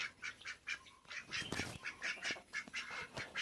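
Several ducks quack in rapid overlapping calls, a busy nearby flock with rhythmic honking bursts throughout.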